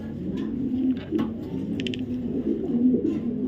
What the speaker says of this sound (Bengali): বিশাল সাইজের একটা কবুতর